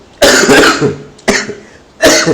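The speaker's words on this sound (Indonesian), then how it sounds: "gue lagi batuk" Three harsh coughs, close and loud, spaced out with short pauses between them.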